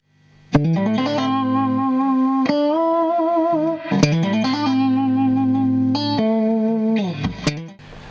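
An electric guitar rings through a Vibra King amplifier with heavy effects, sustained chords struck several times with shimmering, wavering tone and abrupt cuts between them.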